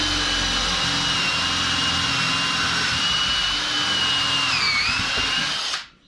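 A power drill set in a jig bores holes for wooden bath house steps, giving a loud, close, continuous high whine with slight pitch shifts as it cuts, then stopping abruptly near the end, with no talking.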